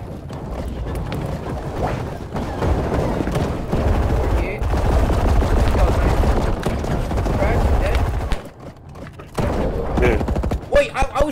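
Dense, continuous gunfire from a team shooter video game, in which a player is shooting a teammate. The loud rattling bursts carry on for most of the stretch, with a brief gap near the end.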